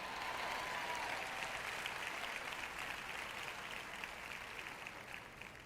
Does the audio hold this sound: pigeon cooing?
no